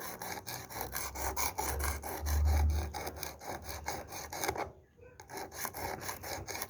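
Steady rhythmic rasping strokes of a knife blade drawn across the abrasive of a WorkSharp Precision Adjust sharpener with Tri-Brasive rod, set between 15 and 20 degrees, close and moderately loud with a brief pause near the end.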